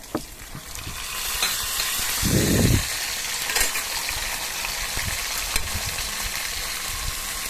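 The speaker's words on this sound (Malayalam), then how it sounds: "അതിൻ്റെ കൂടെ അണ്ടിപ്പരിപ്പും കിസ്മിസും ഒന്ന് മൂത്ത് വരുമ്പോൾ എള്ള് കൂടെ അതിലിട്ട് നമ്മൾ വറുത്തെടുക്കണം" Cashews, raisins and sesame seeds frying in a pan, a steady bright sizzle with stirring scrapes and a short deeper rumble partway through, close and loud with no voices.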